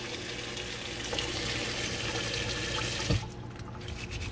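A kitchen tap runs steadily while produce is washed with water and a brush, a continuous close splashing rush with a brief knock near the end.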